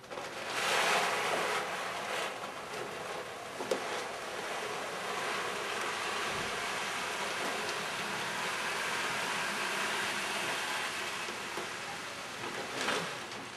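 Dry stored food pours steadily into a bucket for several seconds, a continuous broadband hiss and patter like rain, with a brief louder rush near the end.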